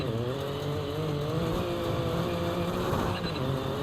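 Rally car engine held at high revs in first gear while waiting for a racing video game stage start, a steady loud droning roar with stacked harmonics that stays level throughout.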